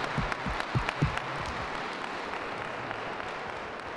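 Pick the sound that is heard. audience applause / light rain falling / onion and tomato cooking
audience applause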